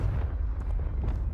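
In the video game Hogwarts Legacy, a Confringo fire spell bursts in a dense, roaring blast that fills the whole brief moment, loud and close without any pause.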